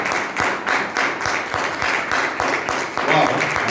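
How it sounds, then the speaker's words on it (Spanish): A church congregation claps for the Lord in rhythmic, pulsing waves, moderately loud, with a voice murmuring faintly beneath. "Dar un aplauso al Señor"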